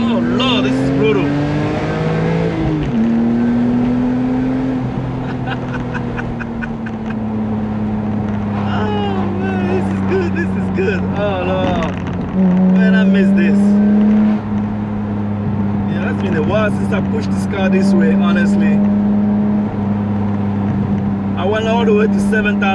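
A BMW E46 M3 accelerating hard in sport mode, its engine note climbing loud and steady from inside the car toward 7,000 RPM, with a dip at a gear shift and someone talking over the roar.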